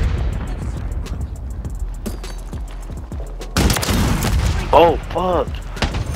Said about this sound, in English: Why am I getting shot by someone with a gun?